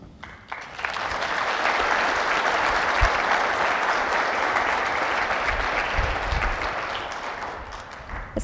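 A conference audience at a general session breaks into loud, sustained applause that swells quickly and holds steady for several seconds before tapering slightly at the end.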